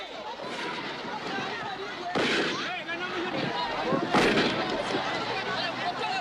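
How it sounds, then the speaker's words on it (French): Sharp gunshots crack out a few times amid a noisy, chaotic scene, with voices and crowd commotion underneath. "Des coups de feu claquent"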